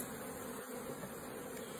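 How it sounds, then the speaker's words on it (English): Honeybees and drones buzz inside an opened beehive, a close, steady, even hum that carries on without a break and with no talk over it. "Oh, is that a boy bee?"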